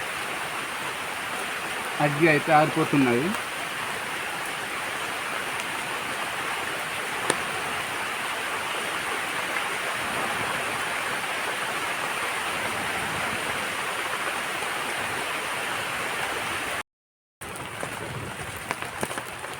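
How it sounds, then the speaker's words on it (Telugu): Steady, continuous rain falls outdoors beside a fire where custard apples are being roasted, a constant hiss throughout, with someone speaking briefly early on. "ఇరవై నిమిషాల నుంచి వర్షం పడుతూనే ఉంది"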